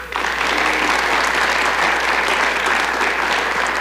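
Audience at a city State of the City event applauds in a continuous, dense wash of clapping that holds steady and loud throughout, with no talking over it.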